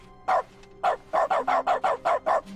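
A dog in The Stanley Parable: Ultra Deluxe barks repeatedly, one short bark followed by a quick run of about eight loud, close barks in a steady rhythm, with no talk.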